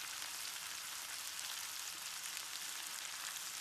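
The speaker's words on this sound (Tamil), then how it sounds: "ஃப்ரை பண்ணிட்டு இருக்கோம் ஃப்ரெண்ட்ஸ்" Fish frying in a pan of oil, a soft, steady hiss of sizzling that carries on evenly and faintly with no voices.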